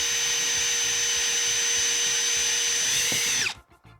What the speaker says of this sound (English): And then the drill.